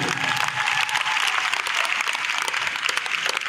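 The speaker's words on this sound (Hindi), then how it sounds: "एक जोरदार ताली आप लोग अपने लिए बता दीजिए।" A stadium crowd in Delhi claps loudly on request, a broad continuous wash of applause from a large audience that holds steady throughout without any speech on top.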